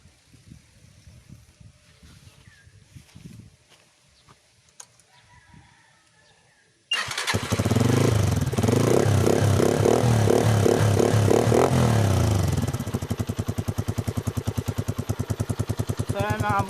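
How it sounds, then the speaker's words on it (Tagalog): Honda TMX motorcycle with a curved bullet pipe muffler and silencer: quiet talk gives way to an abrupt, loud engine start, then a steady, throbbing idle with a rhythmic exhaust pulse. "so start po natin yung motor"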